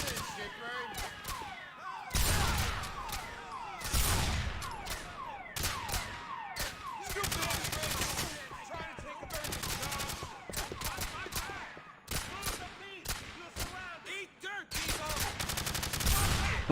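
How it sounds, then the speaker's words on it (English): Dense, rapid gunfire from the video game GTA IV, with overlapping bursts and volleys rattling almost continuously, loud and chaotic, with a voice partly buried beneath the shooting. "Oh, they're shooting at the cops!"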